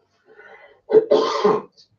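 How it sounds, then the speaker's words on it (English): A short, throaty cough burst from a person with a slight cold, following a faint voiced sound, close to the microphone. "Just still getting over a slight cold, so got a cough."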